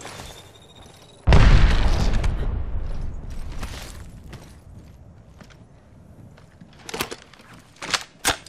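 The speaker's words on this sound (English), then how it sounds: "Grenade." A grenade detonates in the battle royale game Apex Legends: one loud, close boom with a long rumbling decay, followed later by scattered light clicks and pops.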